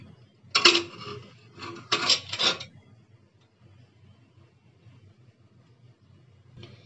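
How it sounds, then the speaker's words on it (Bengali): A metal pressure cooker lid is lifted off after cooking moong dal, giving two short bursts of clanking metal and a clattering lid near the start, then near quiet with a faint clink at the end. "এখন আমি ঢাকনাটা খুলে নিচ্ছি"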